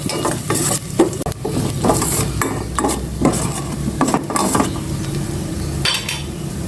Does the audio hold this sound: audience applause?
no